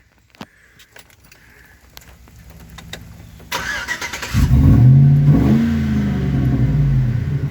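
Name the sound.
truck revving with cherry bomb exhaust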